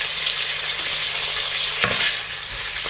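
Garlic and ginger stir-frying in a hot pan with British beef ox cheek and red and green peppers, a steady loud sizzle with one brief stir or toss partway through.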